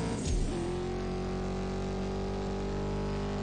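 An Aston Martin Vantage engine in the CSR2 racing game holds a high, steady rev after a brief rising burst, a sustained loud drone with strong engine harmonics and no talk.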